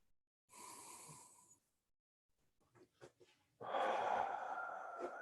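Deep breathing during a chest stretch exercise: a long, close inhale, a pause with a few soft breaths, then a heavy, sustained exhale.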